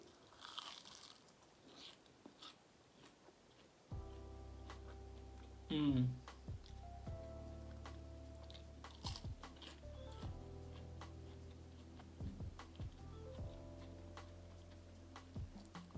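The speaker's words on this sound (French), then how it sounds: "Et surtout, ça croustille bien" KFC onion rings crunching as they are bitten and chewed up close, several crisp bites over steady background hum and faint voices.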